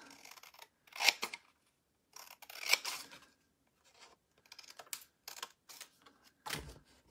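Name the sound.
cutting paper with big scissors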